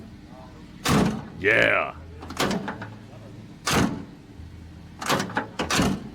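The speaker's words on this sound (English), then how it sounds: "I love those metallic door sounds of. That is a door sound right there." A heavy metallic Mercedes car door shuts with solid thuds, several closings spaced across the moment, loud and close, mixed with a short spoken word and some background talk.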